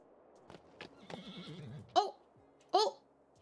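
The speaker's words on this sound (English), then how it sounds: "Oh, I hear horse." A horse neighs in a video game demo, with two sharp, loud whinnies near the end after softer game sounds and faint clip-clop earlier.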